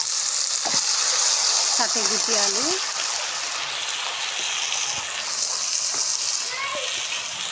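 Bitter gourd and small potatoes frying in a pan with onions, a steady loud sizzle throughout, with someone talking over it.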